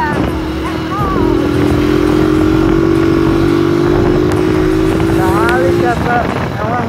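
A motorcycle accelerates along a short straight, its engine droning loud and steady with one long, gradually rising tone under constant wind rush, and higher revving tones at the start and end.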